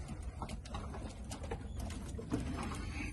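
Turkish game pigeons in a loft, with soft coos and fluttering patter layered over a constant low rumble, close and continuous for a few seconds.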